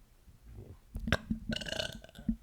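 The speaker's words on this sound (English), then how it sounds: "I have to burp again." A person burps several times in close succession, short throaty bursts that are loud and close, standing alone without other talk.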